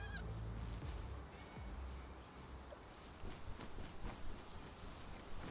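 A chicken-like creature in the video game PalWorld attacks, giving honking, goose-like squawks over low game ambience; the calls come in short bursts, faint and somewhat distant, with soft thumping steps between them.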